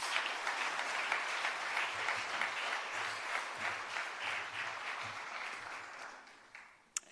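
An audience at a workshop claps for a school principal, a dense, steady round of applause that fades out toward the end, with no talk over it.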